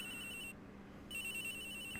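A cell phone rings in the Ace Attorney Investigations video game, a steady electronic ring that stops briefly and then resumes at moderate volume, with no talking.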